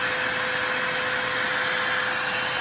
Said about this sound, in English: Obviously the inducer motor was sucking air through there, pulling anything in, not blowing it out